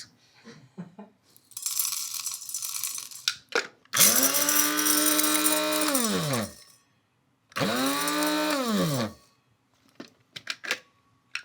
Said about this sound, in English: Let's see how loud it is grinding.